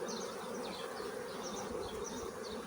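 Honey bees inside an opened hive during the first spring expansion, with comb built onto the division board, give a steady, dense buzzing hum close by, continuous and unbroken with no talk.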